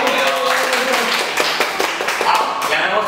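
A small group or class applauds after a speaker finishes, a burst of loose, uneven hand claps close by, with talk mixed in around the clapping.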